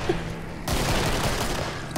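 Dense, sustained burst of rapid gunfire in the video game Killing Floor erupts after a short quiet start, continuous automatic shots dominating the mix until near the end.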